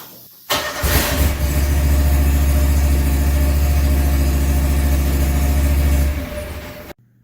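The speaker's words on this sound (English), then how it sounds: "then we'll start the tractor here and we're going to raise the lift arms all the way up" A John Deere 445 lawn tractor engine cranks and catches, then runs at a steady, loud idle close by for about five seconds before cutting off abruptly.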